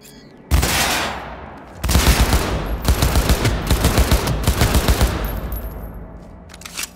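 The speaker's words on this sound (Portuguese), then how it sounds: "Você levou um tiro." Bursts of rapid automatic gunfire in the video game Cyberpunk 2077 crackle loudly in several volleys with brief pauses, the shots echoing and tailing off near the end.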